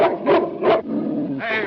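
A dog named Buck growls low and steadily, broken by three short whimpering yelps spaced across under two seconds, close and fairly loud, with no talk over it.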